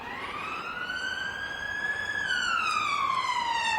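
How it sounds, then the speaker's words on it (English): An ambulance siren wails along a street, its rising and falling tone sweeping steadily and fairly loud throughout, heard alone with no talk. "Ah, it's an ambulance."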